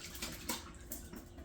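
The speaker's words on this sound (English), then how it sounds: "Let's wet the hands real quick." Water running from a tap as hands are wet before handling sourdough, a steady faint splashing with a few brighter surges, close by and with no talking.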